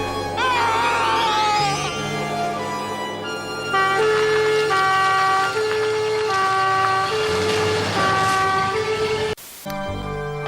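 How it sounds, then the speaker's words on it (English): Siren from an old Rover police car, a loud two-tone wail with steady alternating notes that dominates throughout amid traffic noise, with a brief break near the end. "Check out the old Rover police car. What a beast."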